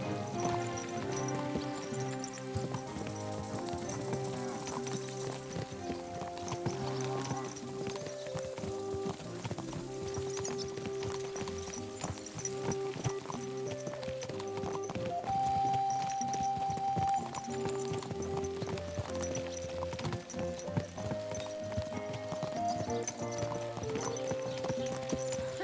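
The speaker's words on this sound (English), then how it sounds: "And get that horse under control." Horse hooves clip-clopping in the medieval video game Kingdom Come: Deliverance II, a faint steady walking rhythm under a bed of sustained tonal music, with an occasional whinny.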